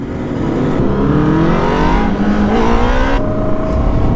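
A group of motorcycles, including two-stroke bikes, a Fazer and CBXs on a ride out, roar past close by, the loud layered engine drone rising and shifting in pitch as they go.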